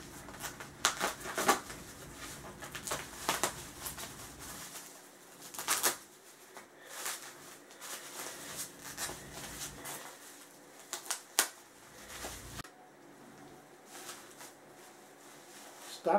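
Parcel sealed with clear packing tape being unwrapped close up, with crinkling, tearing and rustling in irregular bursts, plus occasional sharp rips and quieter handling between them.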